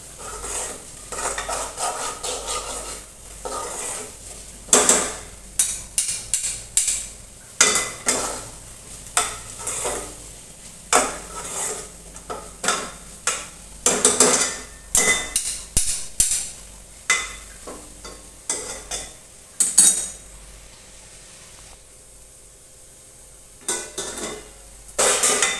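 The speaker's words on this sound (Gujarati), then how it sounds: "આપણે તેને હલાવતા રહેવાનું છે, જેથી કરીને લોટ છે, લોટને મસાલાથી સરસ તે મિક્સ થઈ જાય" Bhindi masala with gram flour is stirred in a pan, giving repeated scraping and clinking of a spoon against metal with a soft sizzle underneath, coming in irregular bursts with brief pauses.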